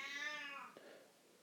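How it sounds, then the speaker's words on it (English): A house cat gives a single drawn-out meow, fairly quiet and close, fading at the end into a faint room hush with no talking. "The cat's going to help us."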